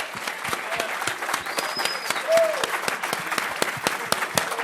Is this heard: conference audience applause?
yes